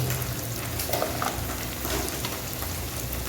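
Onions sizzling and frying in a pan for mutton biryani, with ginger garlic paste being added; a steady, close crackling hiss runs throughout with no talk.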